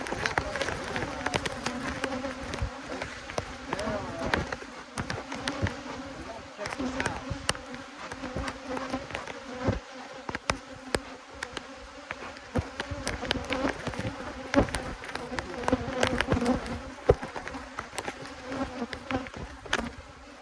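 Robbing honey bees swarm around a hive during the fall honey flow, a dense continuous buzz of many insects close by with small bumps and clatter underneath, steady throughout.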